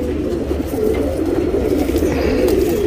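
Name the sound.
Makshi and Dhooma pigeons cooing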